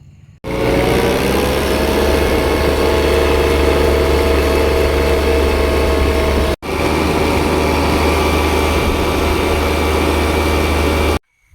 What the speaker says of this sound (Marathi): मी ट्रॅक्टर घेऊन जाणार आहे शेडवर हळूहळू